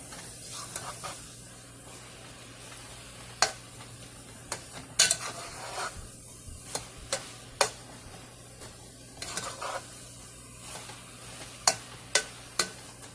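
Coconut chocolate mixture being stirred in a pan for a homemade coconut chocolate milk bar, with repeated sharp scrapes and taps of the utensil against the pan over a low steady background hiss, close and fairly quiet.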